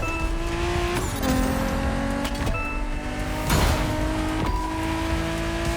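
A BMW Z4 M40i roadster drives nearby, its engine tone rising and shifting through several gear changes with sharp revving transients, steady and fairly close, without talk.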